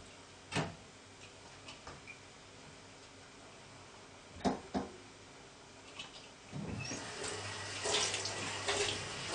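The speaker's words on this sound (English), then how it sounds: "I'm just going to pour off the liquid from the tinned salmon" Liquid poured off tinned salmon into a kitchen sink: a few sharp metallic clicks and taps from the tin come first, then a faint splashing trickle of liquid starts near the end.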